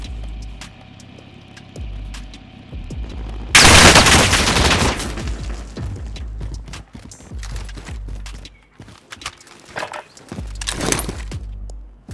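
Stoner light machine gun firing in Call of Duty Warzone, a sudden loud sustained burst of automatic fire followed by scattered shots, footsteps and game effects.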